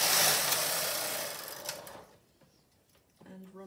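Carriage of a Silver Reed SK155 chunky knitting machine sliding across the needle bed in one long, loud rasping pass that fades away, followed by quieter clicks and a voice near the end.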